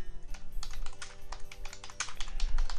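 Someone types a repair entry on a computer keyboard for fleet maintenance software, producing quick, uneven bursts of close key clicks and taps with no talking.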